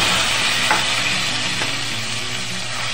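Garlic, onion and ginger paste frying in hot mustard oil with cumin, a loud continuous sizzle with occasional stirring scrapes, no talk.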